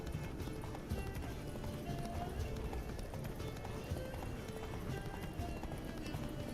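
Horse hooves pound in a continuous, rapid gallop in the video game The Witcher 3: Wild Hunt, close and fairly loud, with a dense rumbling backdrop throughout.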